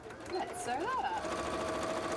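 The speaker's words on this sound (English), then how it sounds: "let's sew that up." A sewing machine stitches a cosplay leg piece, running as a steady close whir for the full two seconds, with a warbling, voice-like tone sliding over it.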